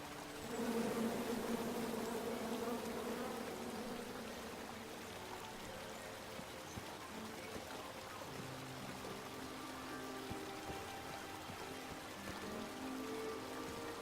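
Bees buzzing in the King's Quest Chapter 1 video game, a steady droning hum that holds for the whole stretch under soft in-game ambience, with no talking.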